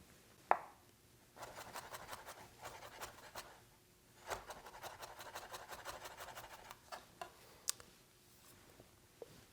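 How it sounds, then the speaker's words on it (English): A kitchen knife mincing shallot and garlic on a cutting board, quick light taps in fast rhythmic runs with short pauses between passes, close and fairly quiet. "I'm going to mince them as fine as I can get them with my knife"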